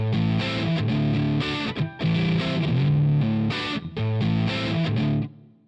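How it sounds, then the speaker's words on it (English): A guitar plays through an overdriven 12AX7 triode preamp tube amp, giving a bright, buzzy, fizzy distortion on loud sustained chords with brief gaps between phrases. "When these are overdriven, they tend to produce a brighter, buzzier distortion that some describe as kind of fizzy in large doses."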